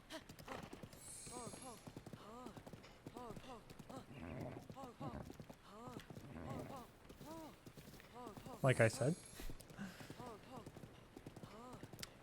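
Horse hooves clip-clop steadily in Zelda: Breath of the Wild as the mount runs, sitting under near-continuous talking from a person, with a brief louder burst of game sound near the end.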